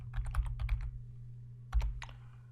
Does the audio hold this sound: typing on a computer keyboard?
yes